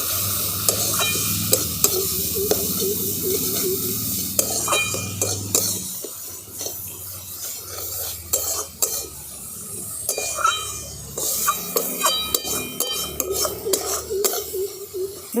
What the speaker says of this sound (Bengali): সব মশলাগুলো খুব ভালো করে মিশিয়ে দেবো।